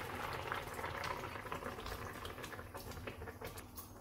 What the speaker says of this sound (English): So it's been boiling for the last 2 minutes, I think.